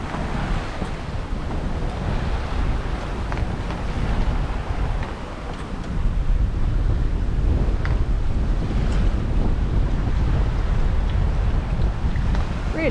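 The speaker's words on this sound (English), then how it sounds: "The wind has got up much more than the forecast" Strong wind at sea aboard a sailing boat mid-Atlantic, with gusts roaring over the microphone and waves washing against the hull, a steady loud rush that grows heavier halfway through, no voices.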